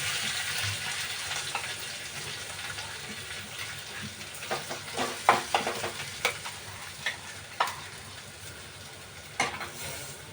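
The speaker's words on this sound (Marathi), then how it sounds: "आता ही अर्धी तेलामध्ये टाकते मी." Finely chopped coriander hits hot oil for a peanut chutney, giving a soft sizzle dotted with irregular sharp pops and crackles that grow busier midway.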